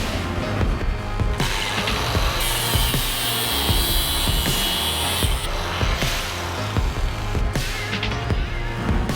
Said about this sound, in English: I'm gonna go with the angle grinder and just cut up a little bit of it from the end now